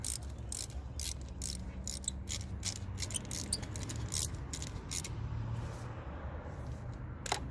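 A ratchet tightens a spark plug on a Ford Mustang 2.3L engine, its quick metallic clicks coming in short regular bursts, close and fairly quiet, with no talking.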